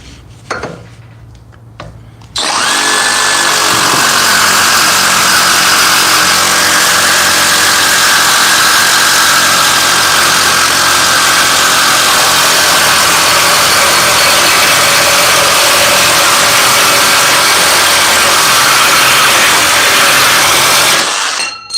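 An atomic bandsaw starts up after a quiet couple of seconds and cuts through a workpiece, giving a loud, sustained high whine and rasp that runs steadily almost to the end before cutting off.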